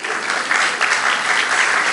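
Congregation applause during a church sermon, a dense, steady wash of clapping from many people, loud and close, with no talk over it.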